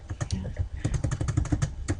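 Rapid clicking of keys on a computer keyboard, steady and close, with a low murmur underneath.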